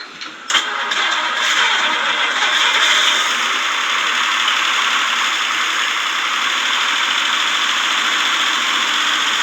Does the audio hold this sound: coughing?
no